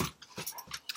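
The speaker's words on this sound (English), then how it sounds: "And the dogs are playing over here." Dogs playing outdoors, giving short yips, whimpers and playful growls in quick irregular bursts, fairly near and moderately loud with no talk over them.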